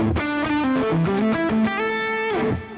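A distorted electric guitar, a Les Paul through a Trainwreck amp tone, plays a quick melodic run with crunchy tone, loud and up close, ending in a held note.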